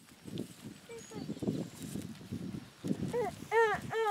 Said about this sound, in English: Got the goat herd.